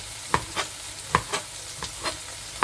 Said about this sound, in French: je surveille ma casserole, ma poêle derrière. Et je remue, pas que ça crame.